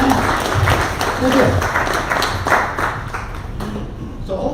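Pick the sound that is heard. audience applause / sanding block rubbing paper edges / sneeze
audience applause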